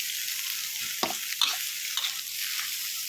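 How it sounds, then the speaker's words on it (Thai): Eggs stir-fried in a pan for a sweet preserved radish and egg dish give a steady sizzle, with a few sharper scraping clicks of a utensil against the pan. "ผัดไข่ ให้สุกในระดับหนึ่ง"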